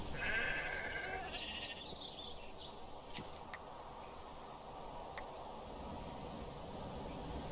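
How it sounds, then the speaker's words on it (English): A video-game sheep lets out a brief bleat early on, followed by faint sparse clicks over a quiet, steady background. "little sheep, I need your wool."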